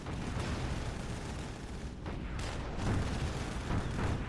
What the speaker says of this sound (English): No losses from the barrage.